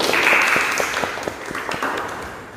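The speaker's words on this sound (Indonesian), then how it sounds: "Kita kasih tepuk tangan baik buat Mas Teddy, Mas Bayu, Mas Eka dan semuanya." Applause rising for Mas Teddy, Mas Bayu, Mas Eka and the other role-play participants in a group counseling session, a steady wash of clapping that slowly fades over a few seconds.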